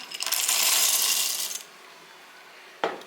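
A quick rattling pour of roasted peanuts into a mixer jar, lasting about a second and a half, followed by a single short clink near the end.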